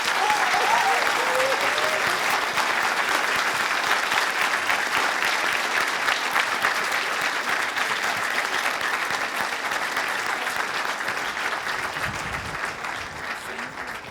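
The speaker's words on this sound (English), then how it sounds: "And one more clap for the panel," A studio audience at a late-night comedy panel show applauds in a dense, sustained burst of clapping that carries on for about fourteen seconds and tapers off gently at the close.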